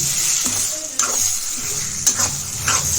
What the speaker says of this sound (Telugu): నెయ్యి యాడ్ చేసి ఒక్క తిప్పేసి